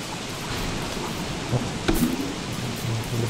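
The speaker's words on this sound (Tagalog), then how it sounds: "Kulog-kulog pa." Steady rain hisses throughout while a low thunder rumble rolls in briefly near the middle, in the video game Don't Starve Together.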